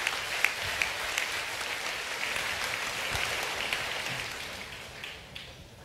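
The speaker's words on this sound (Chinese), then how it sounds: "我们再次掌声感谢徐雅琪师姐今天站出来能够端正视听" Sustained applause from a seated audience at a religious gathering: a dense, even wash of many hands clapping that holds steady for several seconds and then fades slightly toward the end.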